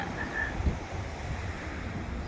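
Sea waves and wind on a cold morning at a seaside village beach where surfers are out, heard as a continuous low rushing surf wash with steady wind buffeting the microphone and no talk.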